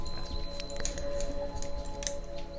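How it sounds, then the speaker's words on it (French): Scissors snipping hair during an ASMR haircut session, a few crisp close snips over a steady low hum, quiet and intimate with no speech. "Donc on va plus voir les coups de ciseaux, plus entendre le bruit"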